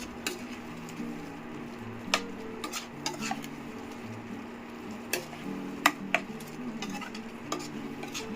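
Scraping and clinking of a spoon stirring spices and chicken in a cooking pot for Chettinad chicken gravy, with scattered sharp taps against the metal over a low background hum.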